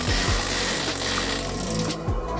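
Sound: drilling and screwing to fit a mosquito net on a window

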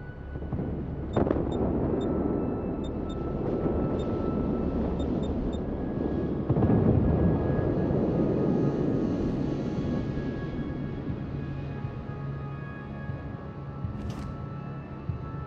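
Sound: aircraft flying overhead in a naval video game

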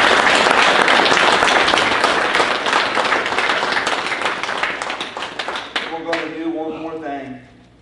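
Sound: congregation clapping at a funeral service

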